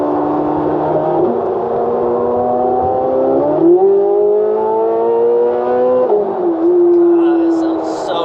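Chevrolet Corvette engine with high-flow catalytic converters revving up in steps, its raspy tone climbing and holding, loud and close from inside the car while occupants talk over it.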